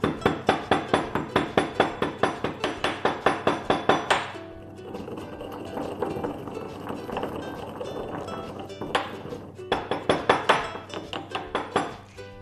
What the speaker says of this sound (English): I'm just gonna pound it up now.